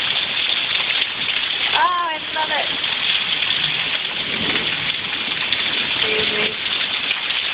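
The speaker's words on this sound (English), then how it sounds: "I love rainstorms." A heavy rainstorm pours down as a steady, dense hiss of rain that fills the whole stretch, with a few excited voices speaking over it close by.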